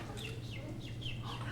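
A human mouth imitates a baby bird with a rapid series of thin, high chirps and peeps repeating close and fairly soft over a low background hum.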